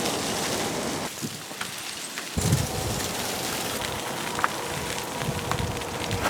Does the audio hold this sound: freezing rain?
yes